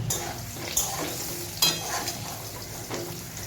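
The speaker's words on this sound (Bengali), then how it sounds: "এবার আস্তে আস্তে করে ভাজতে থাকবো" Potato and pointed gourd fry in a pan with a steady sizzle, broken by a few sharp stirring scrapes and clinks of a spatula against the metal, close and fairly loud with no talk.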